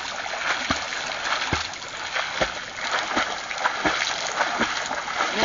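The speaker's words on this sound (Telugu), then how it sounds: "నీళ్ళు జల్లమంటున్నాయా?" Swimmers splash in water, with irregular slaps and sprays repeating every second or so over a steady watery wash, heard at moderate distance with faint voices in the background.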